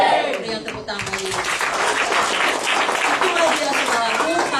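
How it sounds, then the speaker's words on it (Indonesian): An audience claps at a Christian church seminar in Semarang, a steady wash of many hands under a loud voice speaking over it throughout. "Beri yang tepuk tangan lagi"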